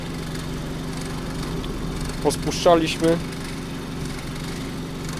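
A homemade cogenerator generator engine on its first start runs steadily close by, a constant low engine drone throughout, with a person speaking briefly over it midway.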